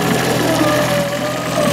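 A boat motor drones steadily at close range, loud and continuous, with a voice over it on a lake at night after fishing.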